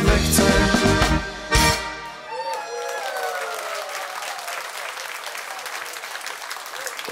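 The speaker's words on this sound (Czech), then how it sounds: "Opět děkujeme za potlesk." Audience applause fills a concert hall after a Czech folk brass song, loud dense clapping at first that fades into a smaller scattering of claps, with the band's last notes ringing out beneath it.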